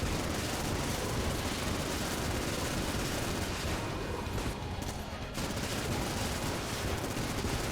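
A Vulcan cannon in the game Enter the Gungeon fires a loud, unbroken roar of rapid shots that briefly drops out around the middle before resuming, with no talk.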